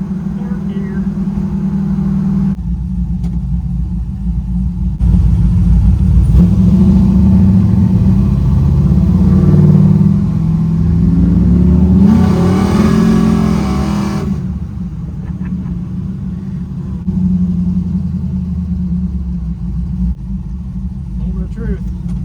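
A 1968 Chevelle with a cammed 5.3 litre V8 rumbles deeply from inside the car on a test drive, idling, then swelling into a louder accelerating roar midway before settling back to a steady low drone.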